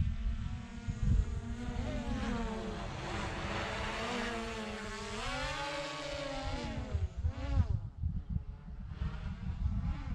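A DJI Mavic Pro Platinum drone races overhead in sport mode near Tortugas Mountain, its propellers giving off a continuous high buzzing whine that bends in pitch as it turns and speeds past.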